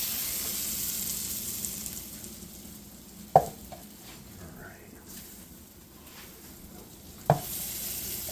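Venison backstrap sizzles steadily as it fries in a pan, a continuous close hiss punctuated by two sharp knocks of utensils against the pan.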